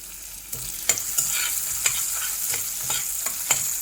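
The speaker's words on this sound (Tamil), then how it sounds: "இது கொஞ்சம் ஃப்ரை ஆகட்டும்." Small pieces of coconut frying in a pan, a bright steady sizzle broken by about half a dozen crisp spatula scrapes and taps at irregular intervals, close up with no voices.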